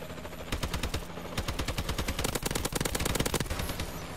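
An AK-12 rifle in Call of Duty Advanced Warfare fires in long, rapid automatic bursts, loud and close, with short pauses between strings of rattling shots.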